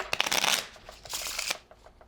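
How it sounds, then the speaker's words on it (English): A deck of playing cards shuffled up close, two rapid riffling bursts of crisp fluttering card snaps separated by a short pause, with no talking. "Shuffle the deck."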